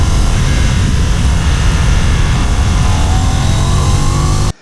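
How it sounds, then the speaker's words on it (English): KTM 990 RCR motorcycle exhaust roaring loud and close, a dense sustained engine blare at high revs that holds steady before cutting off abruptly. "The sound the exhaust makes always makes you feel there's someone behind you."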